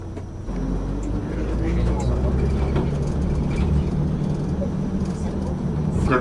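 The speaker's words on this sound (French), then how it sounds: "C'est la voiture qu'on suit." Car driving through the streets of central Girona, Spain, heard from inside a following vehicle: a steady, close engine and road rumble runs throughout, with faint traffic noise around it.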